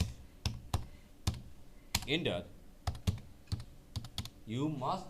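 Keys tapped on a computer keyboard in sharp, separate clicks at an irregular pace while someone talks in between and over them.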